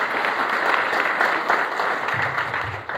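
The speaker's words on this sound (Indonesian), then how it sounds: "Beri tepuk tangan terbaik buat Tuhan Yesus." Church congregation during a sermon breaking into warm applause, a steady dense patter of many hands clapping at moderate volume, with a low rumble entering near the end.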